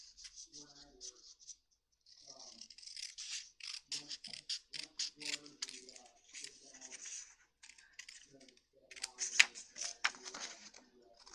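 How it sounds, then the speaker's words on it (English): Card stock being cut apart with scissors for a pinwheel tower card makes a run of close, crisp snips and rustles, mixed with paper handling and soft murmured talk. "And we're going to cut that one apart."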